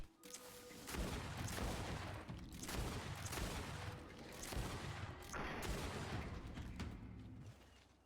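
Gunfire in Greedfall, several heavy shots booming in succession over a few seconds, each blast followed by a rumbling tail, fairly faint overall with no talking.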